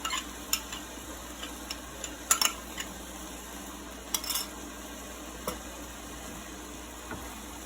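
Tomato mixture is stirred in a pot for smoked-fish fubwa (afang), a soft sizzle underneath with sporadic scrapes and clinks of the utensil against the pot, close and unvoiced.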